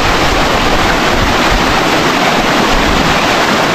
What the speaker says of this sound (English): I think I found the source of a waterfall.